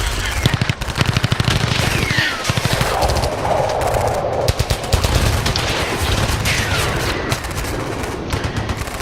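Rapid machine-gun bursts from the video game Fallout 4, loud and close, with dense rattling volleys and sharp individual shots repeating throughout, no speech.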